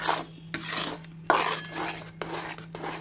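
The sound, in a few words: stirring kul (jujube) pickle in a kadai on low gas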